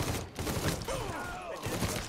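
Enemy gunfire in Mafia 3 rattling in quick, fairly loud bursts over roughly two seconds, with a brief pause in between and a faint voice mixed under the shots.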